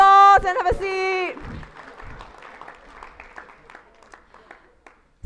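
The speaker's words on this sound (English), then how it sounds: "Give yourself a round of applause and have a seat." A studio audience applauds after a short burst of loud voices and music at the start, then a sustained patter of clapping continues at moderate level and fades toward the end.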